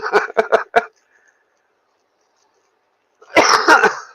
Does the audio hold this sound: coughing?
yes